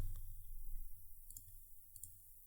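A few soft, separate keystrokes sound on a computer keyboard as a number is typed in, quiet and sparse against near silence.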